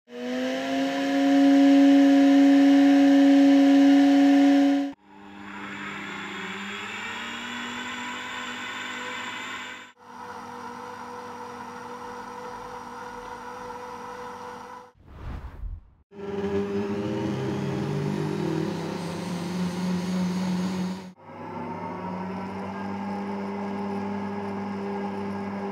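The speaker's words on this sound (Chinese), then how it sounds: "然后我们再来听一听这6款柔音破壁机的噪音情况" Six quiet high-speed blenders, each grinding 50 g of raw soybeans in 500 ml of water, run one after another in steady segments of loud whirring motor roar with a short pause between some, no talking.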